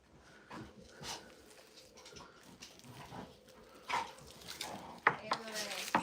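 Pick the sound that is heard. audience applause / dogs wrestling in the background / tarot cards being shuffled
dogs wrestling in the background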